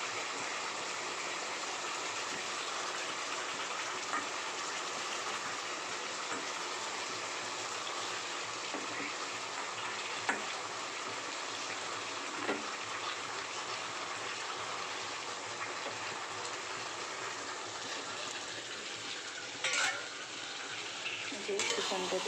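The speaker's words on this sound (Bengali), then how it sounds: "মশলাটাকে আমি ভালো করে কষে নিচ্ছি" Spice masala frying in a pan before chicken is added, a continuous soft sizzle with occasional stirring clinks and scrapes throughout.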